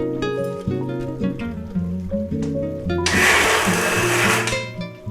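An electric kitchen mixer grinder whirs loudly for about two seconds while blending ingredients for festive ottu shavige with coconut milk, starting abruptly and cutting out, with background music playing before it.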